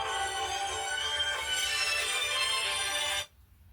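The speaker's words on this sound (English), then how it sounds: "Who's ringing me?" A phone ringtone plays a bright, tonal melody loudly for about three seconds, then cuts off abruptly into near silence.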